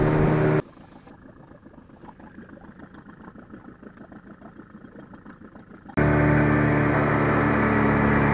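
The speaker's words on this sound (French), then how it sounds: "On sort les moteurs à gaz." Gas boat motors on a fishing outing rumble at a steady low idle for several seconds, set between louder bursts of broadband noise at the start and end.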